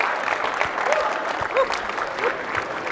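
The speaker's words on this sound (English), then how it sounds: "A round of applause for our Digital Impact and Lifetime Achievement Award winners." An audience at a real estate technology conference applauds award winners, a steady, moderately loud patter of clapping with a few faint whoops mixed in.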